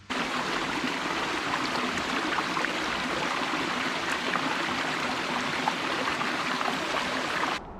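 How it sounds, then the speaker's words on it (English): Running stream water while baby wipes are rinsed in a forest, a loud, constant close rush and trickle with faint splashes, ending abruptly. "find a running body of water, give these things a nice little rinse"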